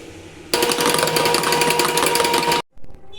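An electric mixer beats eggs with vanilla essence and salt for a cupcake batter, a loud, continuous whirring buzz that starts abruptly and cuts off after about two seconds, followed by faint clatter.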